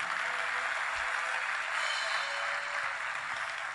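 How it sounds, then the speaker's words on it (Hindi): Concert audience applauding a Mumbai film-industry violin group, a dense, even roar of clapping from a large crowd, steady and fairly distant throughout. "मुंबई फिल्म इंडस्ट्री के सदाबहार और सबसे बेहतरीन वायलिन ग्रुप के लिए आप सबकी जोरदार तालियां"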